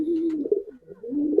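Pigeons coo from cages at a fancy pigeon farm, a low close rolling coo that breaks briefly and resumes, alone without voices.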